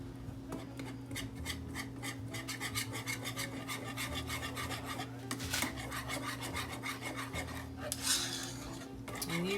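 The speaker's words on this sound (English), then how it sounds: "I'm just stir all this in." A spoon scrapes and stirs chili cheese dip seasoned with cumin in a pot, producing quiet repeated rasping strokes against the metal with a steady low hum underneath and no voice.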